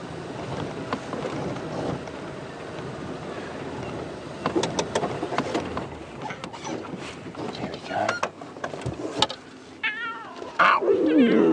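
A young lion cub on safari lets out a few thin, wavering meow-like calls near the end, heard over wind and background noise after a stretch of quieter rustling.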